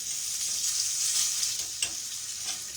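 Catfish frying in hot liquid grease in a pan at Superior Catfish in Mississippi, a steady, close bubbling sizzle that runs unbroken throughout with a few brief crackling pops.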